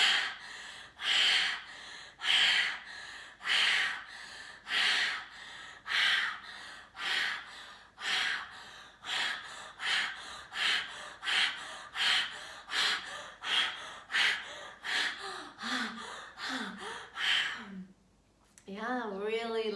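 Deep, forceful breaths from a person practicing Osho Chakra Breath, a steady run of about two dozen rhythmic close-up inhale-exhale pulses, ending in a brief pause and a voiced sigh.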